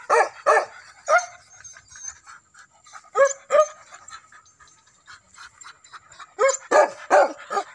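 Several dogs give short bursts of barks and yips, with panting between them, in a hunting setting in the Sumanau, Lubuk Jambi area of Riau. The barks are fairly close, come in clusters with pauses, and are heard without talk.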